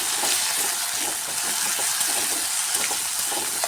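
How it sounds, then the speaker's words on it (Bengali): Loud, dense sizzling of ground turmeric, chili and cumin with ginger-garlic paste frying in a pan for a cabbage and chana dal curry, a continuous hiss with faint stirring and no talk. "মশলাটাকে আমি খুব ভালো করে ভেজে নেব।"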